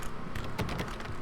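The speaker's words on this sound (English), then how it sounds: "Now, you might have noticed the typewriter in your room" Typewriter keys clacking in the psychiatric hospital room of the video game Alan Wake, a short burst of several close, crisp strikes in quick succession over a steady background hum.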